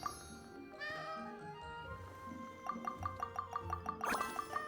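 Cat meows from the Genshin Impact video game, several clear meows over game sound, the later ones coming in a quick rhythmic series of repeated calls.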